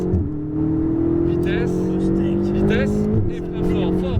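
Race car accelerating on a circuit during a track day, engine drone rising steadily in pitch as it pulls through the gears, heard from inside the car under an instructor's continuous spoken coaching.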